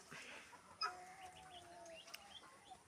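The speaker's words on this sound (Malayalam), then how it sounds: "പറമ്പ് നിറച്ചും കോഴികളാണ് കാണുന്നുണ്ടോ ഫുള്ള് കോഴിക്കള" Chickens cluck in a yard full of hens, making soft, scattered clucks and short calls that sound fairly faint and distant, with no one talking.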